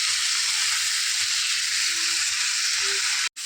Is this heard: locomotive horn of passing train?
no